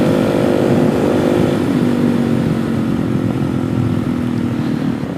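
Suzuki DRZ 470sm motorcycle ridden on the road, a loud, continuous engine drone mixed with heavy wind rush, holding steady before easing slightly at the end, no speech.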